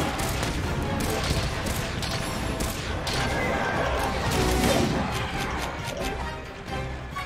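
Light bowgun shots fire in rapid succession in the Monster Hunter Rise demo. Dense, loud bursts of impacts and blasts run continuously throughout, with a voice faintly beneath.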